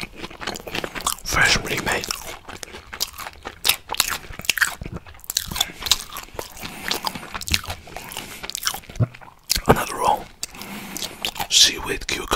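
Close-up bites and chewing of salmon and shrimp sushi rolls with seaweed, cucumber, mango and fried shrimp, irregular crunches and wet chews with soft whispering between them.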